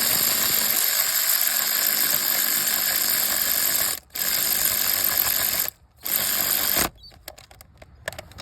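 Rapid ratcheting clicks from a small torque ratchet working a spark plug on a Ford 1.5 EcoBoost engine, loud and close, in sustained bursts broken by two brief pauses before slowing into sparser clicks.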